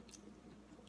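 Close, quiet chewing of roasted Brussels sprouts dipped in a tahini-date sauce, a brief soft crunch and squish lasting about a second.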